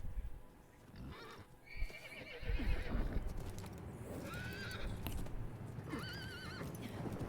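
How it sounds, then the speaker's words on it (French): A horse in the Diablo IV video game whinnies several times over clip-clopping hooves as it flees, the neighs rising out of a rumbling ambient game background. "Un cheval prenant la fuite."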